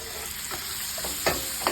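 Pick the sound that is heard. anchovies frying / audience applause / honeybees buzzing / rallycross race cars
anchovies frying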